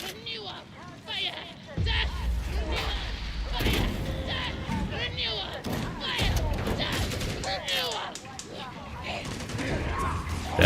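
Rapid weapon fire in the Warhammer 40,000 game Darktide with Skitarii, bursts of shots rattling through most of the stretch, loud and dense, mixed with game voice chatter and mechanical clanks.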